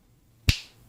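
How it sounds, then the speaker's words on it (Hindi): A single sharp finger snap rings out close and clear against near silence, with a quick crisp attack and short fading tail. "ये तो समझ ही रहे हैं कि मैं चुटकी बजा रहा हूं"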